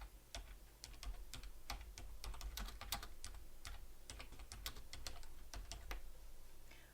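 Someone types on a computer keyboard while filling in a tax declaration. The keystrokes are quick, irregular and close but quiet, and they click steadily throughout.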